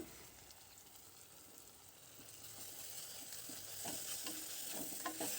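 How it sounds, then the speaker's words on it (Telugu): Thick ground masala paste for prawn biryani sizzling and spluttering in a hot pan, with occasional stirring scrapes, fairly quiet and steady with no talking. "మిక్సీ పట్టుకున్న మసాలా పేస్ట్ వేసుకుని దీన్ని పచ్చివాసన పోయే వరకు మగ్గించుకోవాలి"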